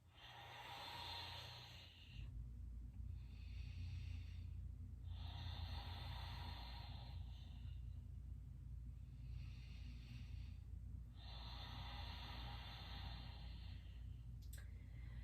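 Deep, slow breaths during a slow power yoga flow, three long airy exhales in steady rhythm, close and fairly quiet over a low steady hum, with no talking.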